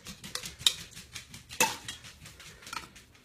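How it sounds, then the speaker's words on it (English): Eggs are whisked in a bowl with quick, light clinking strokes of the whisk against the sides, a few louder taps standing out from a busy, uneven patter at close range. "Just whisk it really good before you put it in."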